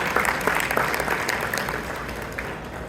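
Audience at a Chicago anniversary gathering of Islamic organizations giving a round of applause, a dense, loud burst of many clapping hands that softens slightly as it goes on, with no voices over it.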